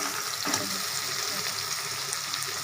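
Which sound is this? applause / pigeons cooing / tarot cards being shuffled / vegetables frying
vegetables frying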